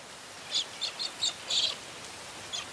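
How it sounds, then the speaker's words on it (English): A handful of short, bright cockatiel chirps ring out in quick succession over a soft, steady hiss of light rain. "and cockatiels celebrate with a rain dance."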